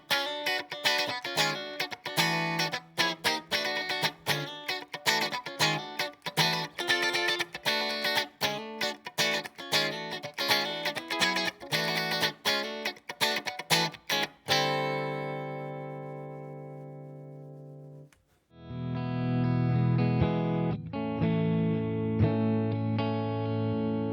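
An electric guitar played through effects pedals: a run of distorted, rhythmic strummed chords, then a long ringing chord that fades away, a brief gap, and a sustained, heavily processed passage, all loud and up close.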